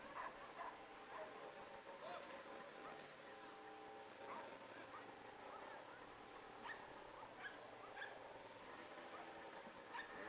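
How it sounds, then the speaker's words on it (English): Norwegian Buhund dogs yipping, barking and whimpering at a Syttende Mai parade, faint and distant within crowd noise and talk. "Oh, I hear some pups."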